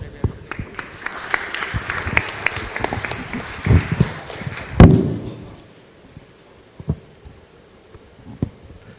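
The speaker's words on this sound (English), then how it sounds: "Please give our panelists a round of applause as we begin our panel discussion." Audience at an esports executive summit applauding the panelists, a short burst of clapping that swells for a few seconds, then thins out into scattered isolated claps, fairly close.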